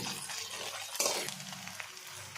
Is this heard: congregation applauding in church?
no